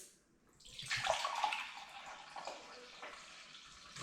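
White vinegar, 5% strength, pours into a toilet bowl with a steady splashing, gurgling rush that starts abruptly, peaks early and then settles into a softer continuous trickle, close and moderately loud.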